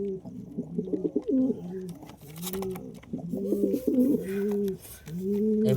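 Pigeons, including a breeding pair sitting on eggs, coo close by in repeated soft throaty rolls, several cooing phrases following one another with short pauses.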